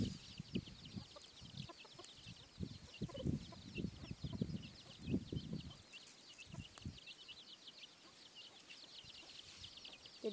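Chickens cluck in bursts close by on a durian farm, louder in the first half and then quieter, with a steady high insect or bird chorus running underneath.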